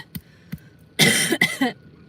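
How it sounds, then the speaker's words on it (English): Two small throat sounds, then a harsh, loud burst of coughing in two or three quick hacks, close up and alone. "So I coughed to death."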